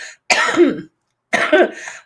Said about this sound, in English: So excuse my coughing here tonight.